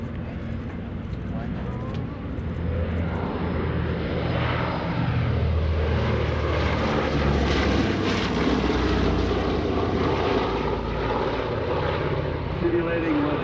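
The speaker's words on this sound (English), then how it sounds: "Look to the left, you'll see the Boeing B-17." A Boeing B-17 bomber from World War II flies overhead, its piston propeller engines producing a loud, sustained droning roar that swells and fades slowly across the whole stretch.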